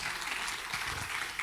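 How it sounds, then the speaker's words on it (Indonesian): Applause for God at a church service, a steady wash of many hands clapping from a congregation, fairly distant and even throughout. "berikan tepuk tangan bagi Tuhan"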